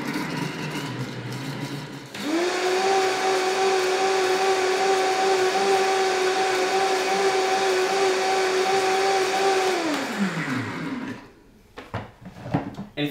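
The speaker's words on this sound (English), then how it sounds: "you basically go on high speed for about 2 minutes" A blender runs on high speed, blending nuts and water into nut milk. It starts after about two seconds of quiet background, whirs loud and steady for roughly eight seconds, then winds down, and a few small clatters follow.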